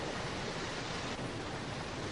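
Thousands of cubic metres of water rushing through a hydroelectric generating plant, a dense, steady roar of broadband noise that holds constant throughout without pause.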